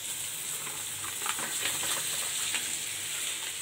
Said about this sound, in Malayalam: ഇതിലേക്ക് നമുക്കിനി വറുത്ത് വച്ചിരിക്കുന്ന ചിക്കൻ ഇട്ട് കൊടുക്കാം